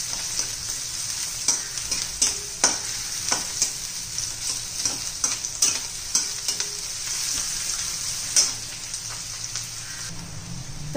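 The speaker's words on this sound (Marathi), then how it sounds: "इतपतच कांदा आपल्याला परतून घ्यायचा आहे" Onion sautéing in a pan until translucent, a soft continuous sizzle broken by repeated sharp spatula taps and scrapes at an irregular rhythm, close and moderately quiet, no voices.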